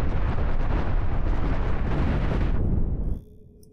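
Missile explosions in the space game Cosmoteer roar as a dense, loud, continuous rumble of blasts for about three seconds, then cut off abruptly into near silence.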